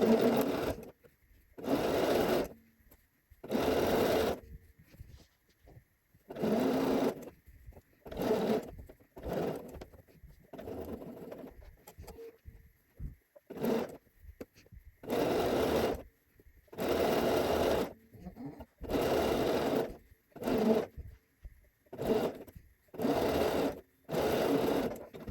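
A sewing machine stitches a V-point seam on a dress in repeated short bursts, each run lasting about a second, with brief pauses between them while the needle stays down and the fabric is pivoted; close and steady.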